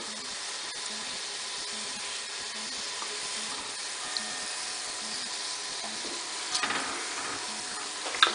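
Steady bubbling sizzle of Provençal bugnes dough fritters frying in hot oil, constant and close, with a few small clinks and pops near the end.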